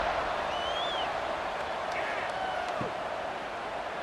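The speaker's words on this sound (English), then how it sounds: "this crowd is buzzing after that last score" Stadium crowd noise in a college football video game, Kansas State at BYU, forms a steady loud buzzing roar with faint whistles and cheers, running under a play-by-play commentator's voice.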